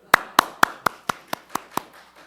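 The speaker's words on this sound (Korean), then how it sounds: "박수." Eight crisp, evenly spaced hand claps ring out at a church service, a brisk unified rhythm that fades slightly toward the end, with no voices.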